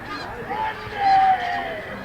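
Geese settled in a cornfield give a few honks, one short call followed by a longer, louder one and a fainter trailing honk, heard at moderate distance over quiet background.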